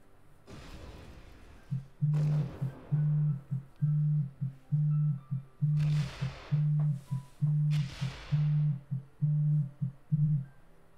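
A phone call tone in an online match of the strategy game Risk: Global Domination plays as a steady run of evenly spaced low beeps, about one every 0.7 seconds, fairly loud and alone, with soft whooshing game sounds underneath.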